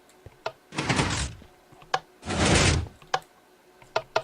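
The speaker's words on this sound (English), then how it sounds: "my Trebuchet door." A Minecraft trebuchet-style piston door cycling in a vanilla survival game, two loud mechanical whooshing bursts a second apart, each framed by sharp clicks and ticks of redstone and pistons.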